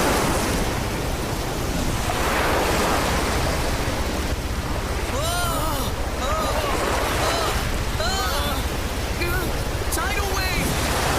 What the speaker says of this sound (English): Tidal wave!